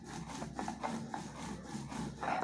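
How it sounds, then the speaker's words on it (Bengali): Green chillies and salt are ground on a flat stone with a grinding pestle, making a soft repeated scraping rub, close but faint, with no talking. "একটা শিলনোড়া নিয়ে তার মধ্যে দিয়ে নিছি কিছু কাঁচা লঙ্কা আর একটু লবণ, ভালো করে পিষে নেব।"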